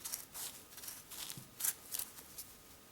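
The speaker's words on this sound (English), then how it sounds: "we simply cut down the line with some cutting shears or some sharp scissors" Sharp scissors or cutting shears snip along a pencil line through masking tape and felt during a Yamaha PSR-EW300 keyboard key repair, giving a series of quiet, crisp, irregular clicks close by.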